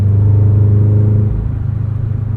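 Deep, steady exhaust rumble from a Subaru BRZ fitted with an aftermarket exhaust, heard from inside the car. The drone stays muted and even, then shifts lower partway through, with no talking.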